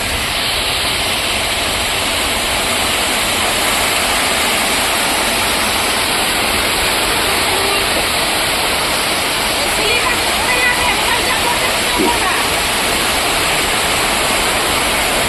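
Floodwater rushing around a flooded house at night, a steady broadband roar like a waterfall, loud and continuous for the whole stretch with no clear speech.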